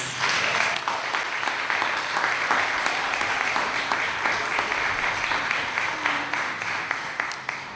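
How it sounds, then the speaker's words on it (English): Donors at a donor appreciation ceremony give healthcare workers a rousing round of applause: a steady, even wash of many hands clapping at moderate distance, continuing without a break. "I invite all the donors at this time to give a rousing applause for all the healthcare workers."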